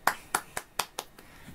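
Six sharp hand claps from a single person ring out close and fairly quietly, spaced evenly about a fifth of a second apart, with the last one fading softer.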